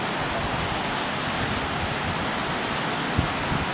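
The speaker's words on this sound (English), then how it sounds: "Still a bit windy today," Steady wind rushing past the microphone at a lakeside guesthouse in Senga Bay, Malawi, a constant broadband roar with no clear gusts, and no voices.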